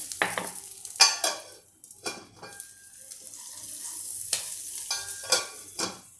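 Green chickpeas go into a hot pan and fry with a steady sizzle while a spoon stirs them in several scraping bursts, close up, with no talking.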